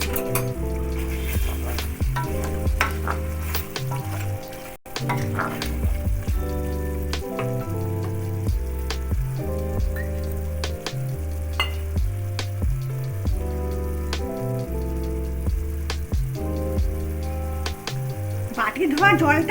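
Young jackfruit curry sizzles and crackles in a pan after a garam masala paste of cardamom, clove and cinnamon goes in, a continuous frying hiss under background music.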